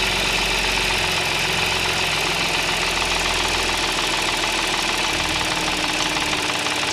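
Close recording of an Audi S engine idling with two abnormal noises, a fast rattling tick and a rougher croaking knock, repeating steadily over the continuous engine hum, with no talking.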